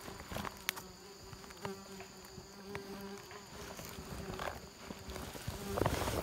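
Yellow wasps buzz around their nest outdoors, a faint continuous insect drone with a few brief rustling knocks, steady throughout and rising slightly near the end.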